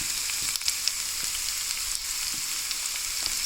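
Potato pieces fry in a pan for an Indian aloo fry, giving a steady, close sizzle with faint crackles and occasional pops, no voices.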